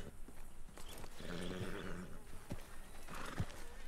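Horse neighing in a video game: a whinny stands out in the middle, with a few sharp hoof-like knocks scattered around it over a noisy background.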